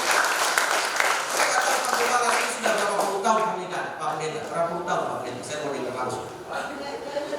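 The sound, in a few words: church congregation applause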